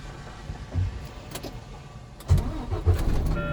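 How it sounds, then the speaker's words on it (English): A truck engine starting, parked in neutral with parking brakes set for a CDL brake test, heard as a cranking burst followed by the engine catching and settling into a steady nearby rumble. "and then I'm going to start the truck up."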